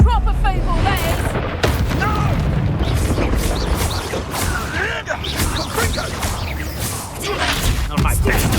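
A Confringo fire spell explodes in Hogwarts Legacy, sharp booms and bursts in a busy battle mix with whooshes and mechanical clatter, while voices call out over the fighting.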